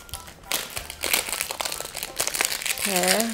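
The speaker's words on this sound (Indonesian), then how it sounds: "Ini aku akan buka dulu. Packagingnya tuh jadi kayak dibungkus plastik gitu ya." Plastic wrapping around a BB cushion makeup compact crinkles and rustles continuously as the package is opened up close. A voice joins near the end.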